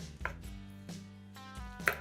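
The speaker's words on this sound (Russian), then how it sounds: "Куриное филе нарезаем брусочками." A knife cuts a boiled chicken fillet into strips on a board, giving a few distinct, close chops spaced irregularly over soft background music.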